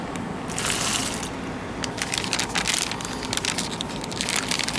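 Four ounces of water splash and slosh into an MRE flameless ration heater bag holding an egg and a heating element, a close, continuous crinkly pour with plastic rustling and no talk.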